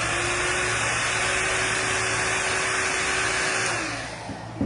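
A hair dryer blows steadily and loudly up close to dry paint on MDF, with a constant whining hum that tapers off and cuts out near the end.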